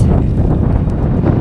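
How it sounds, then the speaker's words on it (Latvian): Strong wind gusts along a path among cave dwellings in Italy, buffeting the microphone with loud, rumbling low-end bursts that rise and fall unevenly. "Brīžiem trakoti pūš vējš"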